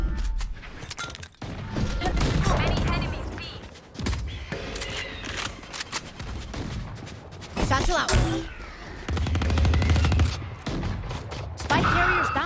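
Machine gun fire in the video game Valorant, rapid bursts of shots and impacts recurring across the round, loud and close, with players talking over the action.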